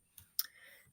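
A single computer mouse click, sharp and close, followed by a soft second click as a site title is selected on screen, in a quiet room with no talking.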